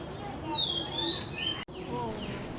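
A bird of paradise at Jurong Bird Park gives its courtship call, a series of clear whistled, sliding notes at moderate distance over a soft background murmur, with a brief dropout near the middle.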